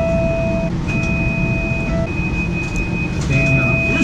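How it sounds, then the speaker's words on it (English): A bus door alarm gives a loud, steady electronic beeping that repeats in long tones with brief gaps, over the rumbling idling engine of the bus nearby. "above the regular ding, sometimes there's a terrible sounding beeping sound."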